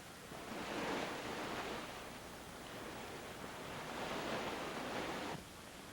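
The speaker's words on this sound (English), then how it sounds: "Oh, that's the sea. This tunnel runs very close to the shoreline here." Sea waves break along a shoreline beside a tunnel in a rushing, hissing roar that swells and ebbs twice, steady and faint in the distance.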